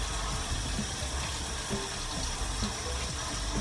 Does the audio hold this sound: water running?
yes